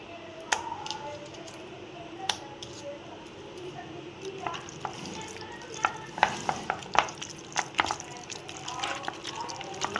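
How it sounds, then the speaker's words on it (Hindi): Hands squish and mix raw chicken with tikka masala and spices in a bowl, giving soft, wet, irregular squelching and rustling close by, with a few sharper knocks against the bowl. "हाथों से मदद से हम अच्छे से इसको मिक्स इसके ऊपर लगा लेंगे मसाले को"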